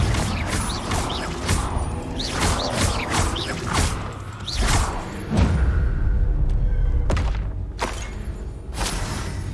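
Confringo fire-blast spells striking in Hogwarts Legacy: a series of sharp bursts and crashing impacts over a rumbling mechanical background, irregularly spaced with a heavier boom near the middle.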